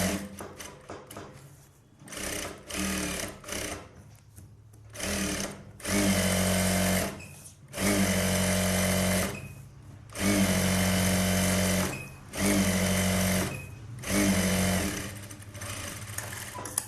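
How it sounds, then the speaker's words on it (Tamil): Bursts of sewing machine stitching on an Aari work blouse, several runs of a few seconds each separated by short pauses, loud and close with a steady mechanical whir. "சுற்றி 1/4 இன்ச்சு விட்டு ஒரு தையல் போட்டுக்கலாம்."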